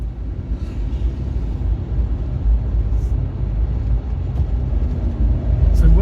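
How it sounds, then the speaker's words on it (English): Low, steady drone of a Fiat 500 Hybrid's small engine heard from inside the car while driving uphill in the Azores, a continuous rumble with mild swells and no speech. "So one thing with this hybrid car, it's extremely noisy, and you really have to rev the engine if you want to have any power going uphill."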